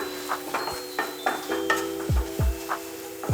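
Masala frying in coconut oil for a Thrissur-style Kerala pork fry, with a spoon scraping and stirring the pan in a steady rhythm of close, distinct strokes over a soft, continuous sizzle.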